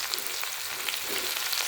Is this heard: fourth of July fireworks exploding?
no